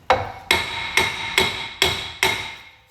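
Six sharp, evenly spaced hammer taps ring out on a cast iron rear subframe part from a classic Mini, each strike bright and metallic with a short decaying ring, close and alone.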